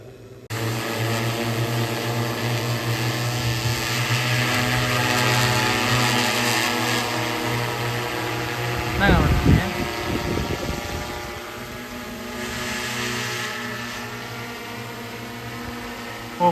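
An agricultural spraying drone flies over a farm field, its steady propeller whine and engine drone running throughout at moderate distance, with a brief louder thump partway through and people talking faintly underneath.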